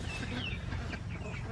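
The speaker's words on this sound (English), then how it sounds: "What kind of chickens are those?" Buff Orpington chickens cluck softly and steadily close by, with a low murmur of farmyard background.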